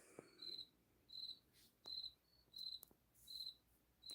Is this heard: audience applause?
no